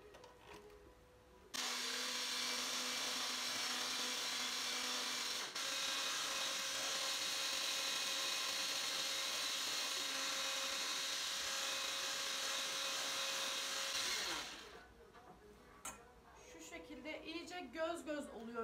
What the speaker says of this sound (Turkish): blender yardımıyla iyice